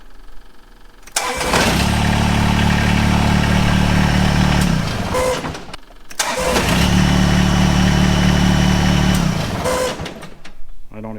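A John Deere 1025R compact tractor with an unidentified noise starts twice, each time settling into a loud, steady mid-pitched engine run with a tonal whine before cutting off abruptly.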